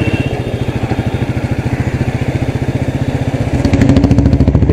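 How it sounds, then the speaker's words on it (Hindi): A Classic Bullet motorcycle with a modified silencer thumps past in Kolkata, its rapid, even, loud exhaust pulses close by and swelling briefly toward the end. "ये रहा क्लासिक बुलेट जा रहा है एक, उसका साइलेंसर मॉडिफाई किया है।"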